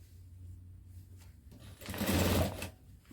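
A sewing machine stitches the folded hem of a cotton petticoat. Its whirring runs are short and light at first, then build to a louder, steady burst of motor whir and needle clatter near the end. There is no talk.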